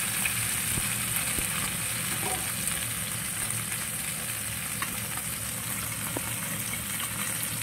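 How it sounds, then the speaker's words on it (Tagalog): Steady, dense sizzling of fish frying in hot oil, close and continuous with faint crackles and pops throughout, no talking. "My frying fish."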